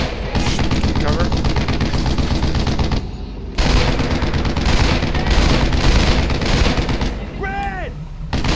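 Heavy rapid gunfire in the World War II shooter Brothers in Arms: Road to Hill 30, dense bursts of rifle and machine-gun fire continuing almost without pause, loud and close, briefly dropping out before resuming.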